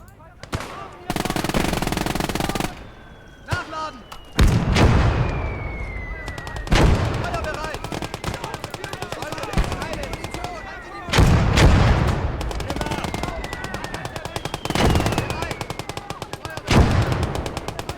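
Machine guns rattle in the Legion of the Damned war game, loud sustained bursts mixed with heavier artillery booms and shell whistles, stopping and starting across the battle.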